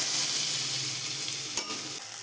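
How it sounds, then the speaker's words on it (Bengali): Brinjal pieces fry in hot oil with a steady, close broadband sizzle throughout, broken by a brief clatter of stirring near the end. "বেগুনগুলো লাল লাল করে ভাজা হয়ে গেছে"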